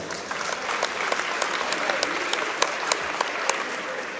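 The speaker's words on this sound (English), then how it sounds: "Please welcome our officials to Northview by giving them a warm round of applause" A crowd at a Northview sporting event gives the game officials a warm round of applause, steady dense clapping with a few sharper claps standing out, sustained for several seconds.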